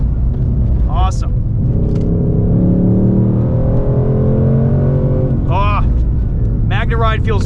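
A 2024 Ford Mustang Dark Horse with a Tremec manual gearbox runs hard on a race track, its engine note loud and close, rising and steadying through the revs, with brief bursts of someone talking over it.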